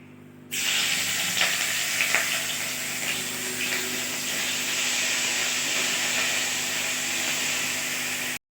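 Ginger paste hits a hot wok already holding dry red chillies, bay leaves, cumin seeds and asafoetida, bursting into a loud, steady sizzle that holds evenly and then cuts off abruptly at the end.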